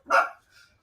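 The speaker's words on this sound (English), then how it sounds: "That's my dog. You look can hear my little Frenchie." A single short, sharp bark from a small French bulldog, close and clear, followed by a faint softer trailing yip.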